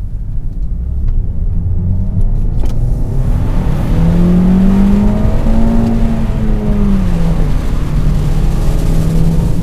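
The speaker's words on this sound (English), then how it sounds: "Take the 2019 Toyota Corolla Hatchback for a drive." A 2019 Toyota Corolla Hatchback drives and accelerates, its steady engine drone rising and falling in pitch as it revs up through the gears, loud and close from inside the car with no talking.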